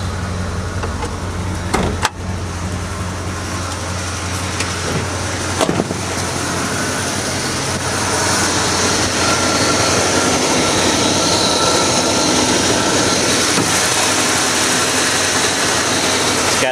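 A 1986 Dodge W150 Royal SE 4x4 pickup, about 161,000 miles on it and fitted with a Holley 600 CFM 4-barrel carburetor, idles in a steady, loud, close rumble that stays even and unbroken throughout.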